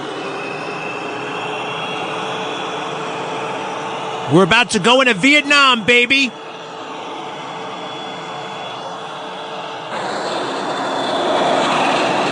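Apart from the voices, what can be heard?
jet engines revving for aircraft carrier launch in video game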